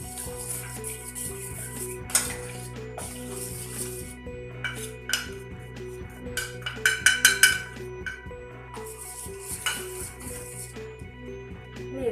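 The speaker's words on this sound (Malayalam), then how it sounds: "ഞാൻ കോൺഫ്ലവർ പാലിലേക്ക് ഇട്ട് നല്ലതുപോലെ മിക്സ് ചെയ്തെടുക്കുകയാണ്" A metal spoon stirs cornflour into milk in a pot or bowl, scraping and clinking against the sides in repeated strokes, with sharper clinks and knocks in the middle and a low steady hum underneath.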